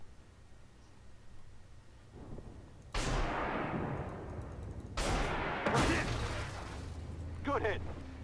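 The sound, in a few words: tank firing missiles in the video game Armored Warfare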